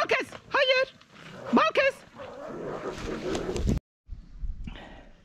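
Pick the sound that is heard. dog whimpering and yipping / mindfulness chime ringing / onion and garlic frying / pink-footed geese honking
dog whimpering and yipping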